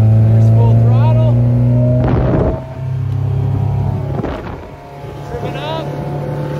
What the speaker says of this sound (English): Get the wheel straight, and there's full throttle.